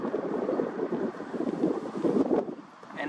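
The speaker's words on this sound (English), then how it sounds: "And it is very windy." Steady, rough wind buffeting a microphone, a continuous low roar that swells and dips throughout with no voices.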